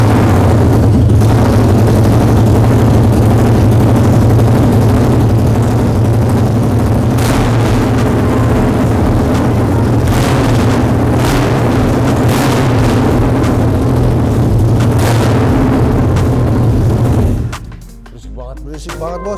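A 2011 Harley-Davidson Night Rod muscle bike engine idles loudly and steadily close by, with a deep rumbling drone and periodic throttle surges, cutting off abruptly near the end.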